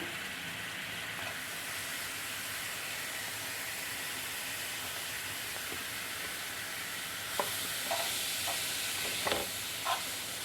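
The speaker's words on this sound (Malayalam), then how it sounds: "നന്നായിട്ട് മിക്സ് ചെയ്ത് കൊടുക്കാം" Grated carrot and sugar stirred in a pan for carrot cake: a soft, steady hiss with faint scraping, then a few louder spoon scrapes and clinks near the end.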